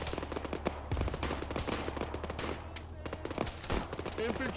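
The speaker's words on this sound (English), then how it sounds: "Tracer fire northeast." Arma 3 military gunfire crackles from a distance as steady rapid shots and bursts, with faint voices over a constant low rumble.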